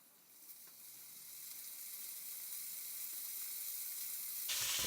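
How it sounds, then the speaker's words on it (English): Beef hitting hot oil in a pan sets off a soft, steady sizzle and hiss that builds gradually and ends with a sharper burst, fairly faint with no talking. "The oil is hot for the beef. I'm going to go ahead and add some of this beef."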